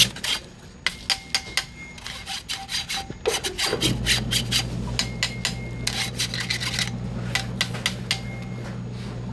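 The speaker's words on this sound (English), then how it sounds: "I'm just kind of scraping it through the screen very lightly." Bubble hash is scraped lightly through a screen in a rhythmic series of dry rasping strokes, close and fairly loud, later over a steady low hum.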